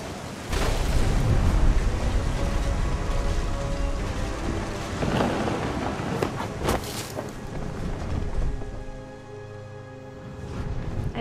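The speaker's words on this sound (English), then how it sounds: "The thunder sounded much too close and full of angry power." Thunder rolls through a heavy rainstorm in the video game What Remains of Edith Finch, deep rumbles rising and fading over a constant loud rain hiss, with a sharper crack near the middle and no talk.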